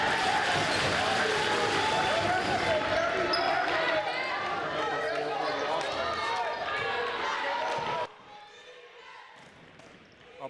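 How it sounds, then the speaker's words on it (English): Boisterous crowd at a women's Division 1 high school basketball semifinal at Halifax West, a dense roar of cheering and clapping with ball bounces that holds loud for about eight seconds before dropping to a quieter murmur. "A boisterous crowd here at Halifax West."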